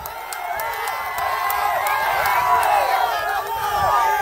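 A political rally crowd cheers and shouts continuously, a dense roar of many voices with whoops rising and falling at steady volume throughout; any clapping is buried in the noise.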